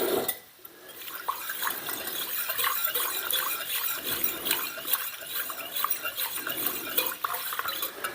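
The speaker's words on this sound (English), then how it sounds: "Gonna give this a stir." A spoon stirs and clinks against a metal pot of beef barbacoa with fresh lime juice, with steady scraping and light wet sloshing, close and moderately quiet, with no talking.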